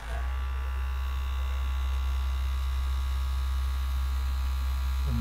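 The tiny electric motor of a miniature Fiat Palio model car runs with a constant, loud, close buzzing hum, steady and unbroken throughout.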